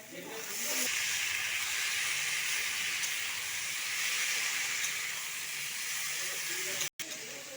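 Washed pumpkin pieces drop into hot oil with fried spices, setting off a loud, close, continuous sizzle that holds steady for several seconds with a brief cut near the end.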